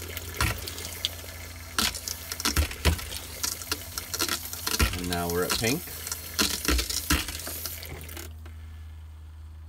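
Water runs from an RV faucet through the hot water lines during winterizing, a steady rushing flow with clattering handling noises, under a person's talk, stopping near the end.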